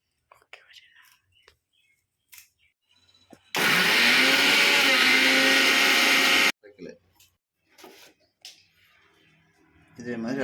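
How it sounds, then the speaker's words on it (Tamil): A mixer grinder loaded with coriander leaves and mint whirs loudly and steadily for about three seconds, then cuts off. Quiet handling noises come before and after, and faint speech is heard near the end. "அடுத்தது கொத்தமல்லி, புதினா இந்த ரெண்டையும் போட்டு நம்ம மிக்ஸ் பண்ணிக்கலாம். அரைக்கணும்."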